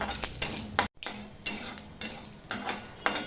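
Panch phoron spices sizzle and crackle in hot oil, heard as sharp bursts of frying hiss pulsing every half second or so with stirring scrapes and one brief dropout, close and fairly quiet.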